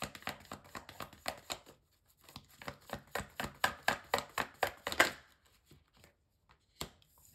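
Tarot cards being shuffled by hand in a quiet room: repeated crisp riffling bursts in an irregular rhythm, close and moderately loud, with brief pauses between runs and no talking.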